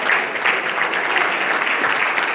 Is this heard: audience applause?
yes